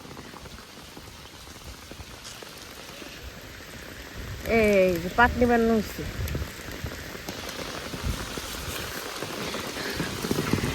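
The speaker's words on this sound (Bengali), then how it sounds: "কি পরিমাণ বৃষ্টিটা নামছে কত বৃষ্টি নামছে" Heavy rain pours in a steady, dense hiss across a village yard, constant throughout, with a short spoken phrase rising briefly in the middle.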